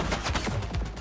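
Rapid gunshots ring out in The Precinct during a police chase, a loud, close burst of shots in quick succession filling the whole moment.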